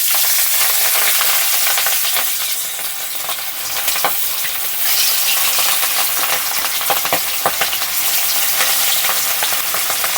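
Rohu fish frying in hot mustard oil over medium gas flame, a steady dense sizzle and crackle throughout with occasional sharper pops, loud and close, no voices.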